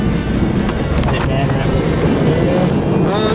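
A snow plow truck drives forward with a steady, loud engine rumble and road noise that continues throughout, while people talk inside the cab.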